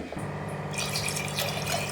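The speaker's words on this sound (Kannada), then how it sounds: "ಅದಕ್ಕೋಸ್ಕರ ನೋಡಿ 1 ಲೋಟ ನೀರು ಹಾಕ್ತಾಯಿದ್ದೀನಿ" A glass of water is poured into a cooking pot for palak rice, a brief quiet moment and then a steady splashing, gurgling pour that runs on to the end.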